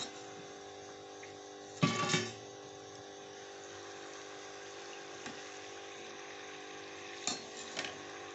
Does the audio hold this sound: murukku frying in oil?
yes